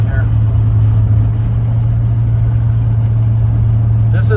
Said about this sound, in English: We're going to take this down the freeway now so you get a chance to see it run down the freeway